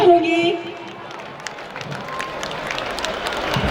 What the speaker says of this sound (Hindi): एक बार प्यारी सी जोरदार तालियां चाहूंगी।